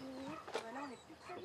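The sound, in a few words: birds singing in the morning in Mafate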